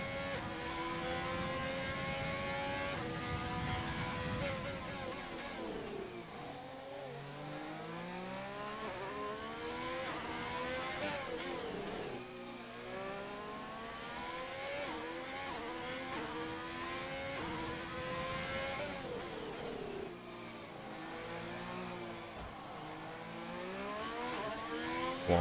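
Formula 1 cars on outlaps around the Azerbaijan circuit in a racing game, a continuous overlapping engine whine rising and falling through gear changes as several cars pass, steady and loud with no talk.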